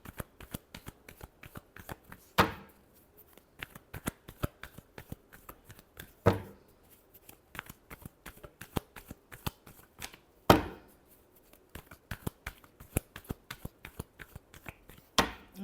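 A deck of tarot cards is shuffled by hand close up, quick papery riffles and taps repeating steadily, with a few sharper slaps as the deck is squared, alone without speech.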